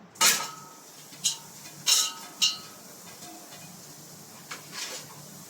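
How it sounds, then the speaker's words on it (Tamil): Sliced onions dropped into a dry pot for chicken biryani, heard as a few light clinks and clatters of pan and utensils, faint and close, with quiet pauses between them. "இப்போ வெங்காயத்தை அப்படியே போடுறேன்"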